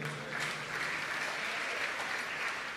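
A church congregation applauding together: a dense, steady wash of many hands clapping, filling the room at an even level with no pauses.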